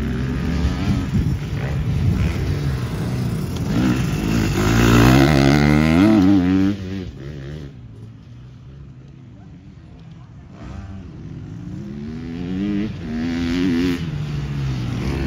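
An enduro motorcycle rides through a deeply rutted corner, its engine rising and falling in revs as it drives in, loud at first and then fading; a voice speaks over it.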